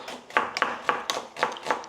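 A red onion is chopped on a board during home cooking of chana chaat, giving six sharp knife taps spaced roughly a third of a second apart, close and fairly clear, with no talk.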